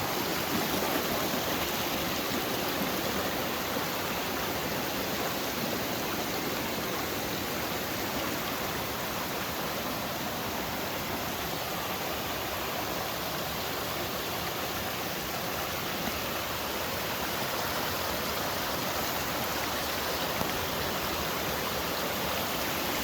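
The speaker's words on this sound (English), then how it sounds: "Our trail crosses this tributary right here. It's flowing down off the side of the mountain." A mountain tributary rushes across a wilderness trail with a steady, dense, close wash of flowing water that holds unbroken and even throughout, with no other sounds standing out.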